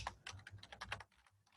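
Typing on a computer keyboard while entering an APA reference, a close, quiet burst of rapid key clicks that thins out toward the end.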